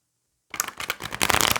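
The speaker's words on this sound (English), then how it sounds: "I'm shuffling these cards right near the deck" Half a second of silence, then a deck of oracle cards being shuffled up close, crisp riffling and flicking that grows denser toward the end.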